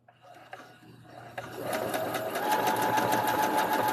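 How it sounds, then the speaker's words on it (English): A home sewing machine starts up and runs steadily, its fast mechanical stitching rhythm building to a loud, even whir with a constant hum, close by and without talk. "a new sewing machine."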